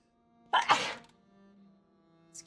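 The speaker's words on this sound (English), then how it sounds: "Oh, I'm gonna sneeze. I can already feel that I'm gonna sneeze." A single close, sharp sneeze bursts out near the start, followed by a faint trailing breath over quiet game background sound.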